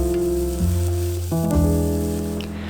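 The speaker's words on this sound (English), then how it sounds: "I'm adding in the garlic and sauteing for another minute." Garlic sautéing with browned onions in a saucepan, a loud steady sizzle and crackle with a stir partway through, close up and continuous, no talking.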